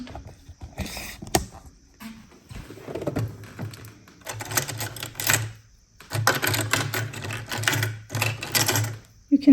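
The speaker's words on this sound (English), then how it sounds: "And then we sew here to the hem," A sewing machine stitches the hem of a mini skirt in several short, loud, buzzing runs separated by pauses, close by, and a voice speaks between the bursts.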